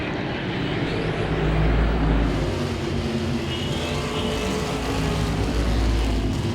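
Modified race cars circle Langley Speedway in a continuous, steady engine roar that holds at a constant level throughout, with no voices.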